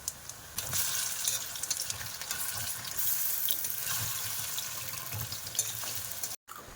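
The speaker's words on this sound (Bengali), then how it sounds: "প্রথমে কলার পকোড়াগুলো তুলব তেলটা ভালোই গরম হয়ে গেছে" Banana pakoras frying in hot oil make a continuous soft sizzle and bubbling, with small clatters of handling now and then and a brief cut near the end.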